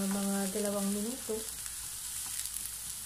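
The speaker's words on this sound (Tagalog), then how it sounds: "gigisahin po muna natin ang ating sibuyas at ang ating ginger" Onion and ginger sauté in hot cooking oil during a broccoli and shrimp stir-fry, a soft, steady sizzle close by, with a voice speaking over the opening moments before the frying carries on alone.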